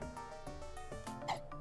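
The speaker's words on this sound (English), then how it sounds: "Someone just burped." A cartoonish burp from a character in the video game Theme Hospital sounds briefly amid background game music and chimes, fairly faint.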